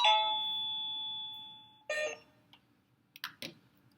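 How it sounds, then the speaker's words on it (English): A SadoTech Model H wireless doorbell chime rings out with a sustained electronic tone that fades over nearly two seconds, then a shorter second note, followed by a few faint clicks. "Press the button on the transmitter again. And it has the newly desired chime."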